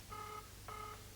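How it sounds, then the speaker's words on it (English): Two electronic telephone keypad tones sound in quick succession, each a steady dual-pitched beep of about a third of a second, clear but fairly quiet over a low background hum. "I'm actually dialing Paula."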